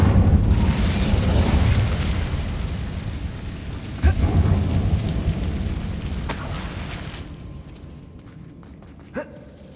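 A fire spell cast in Hogwarts Legacy inside a web-filled mine unleashes a loud, roaring burst of flame that rumbles on for several seconds, with a second surge midway before fading into quiet, sharp crackles.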